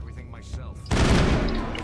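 Rapid rifle gunfire from the video game Mass Effect breaks out abruptly as a loud, dense burst after a quieter stretch with faint game sounds, continuing to the end.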